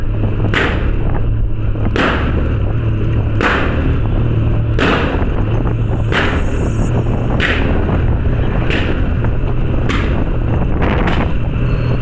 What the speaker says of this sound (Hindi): बहुत तगड़े बैक फायर मार रही है भाई